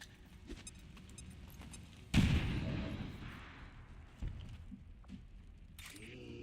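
A frag grenade detonates in XCOM 2, a sudden loud burst that rolls off into a decaying rumble over a couple of seconds, with a smaller thump shortly after amid quiet game ambience.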